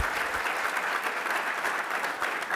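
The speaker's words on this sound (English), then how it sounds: "Give Ron a big round of applause." Steady applause from an audience at a Washington DC mayoral address fills the whole stretch, a dense even patter of many hands clapping.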